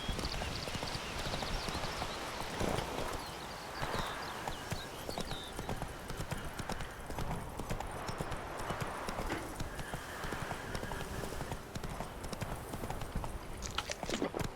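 Hooves clip-clop steadily as the horse Roach gallops in the video game The Witcher 3, a continuous rhythmic pounding heard close and fairly loud over game ambience.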